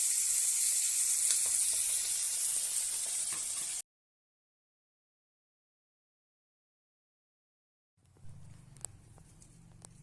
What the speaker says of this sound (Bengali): মাছ ভাজার পর যে তেল থাকলো সেই তেলে, অল্প তেলেই হয়ে যাবে, শুকনো লঙ্কা ফোড়ন দিলাম আর একটু কালো জিরে ফোড়ন দিলাম